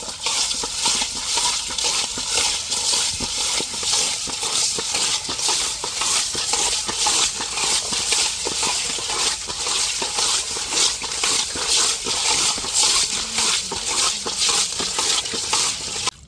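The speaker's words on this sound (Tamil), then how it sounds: "நல்லா மீனை இப்போ உப்பு கல் போட்டு உரசி கழுவி எடுத்துக்கிறோம்." Cut kilinjan fish rubbed with coarse rock salt produces a continuous close gritty scraping and crunching in quick rhythmic strokes, with no voices.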